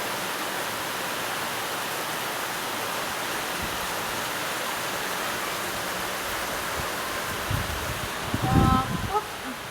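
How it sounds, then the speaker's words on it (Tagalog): Storm-force roaring wind with heavy rain pours continuously, a dense rushing wash of noise; a voice cries out faintly near the end. "ang lakas ng hangin"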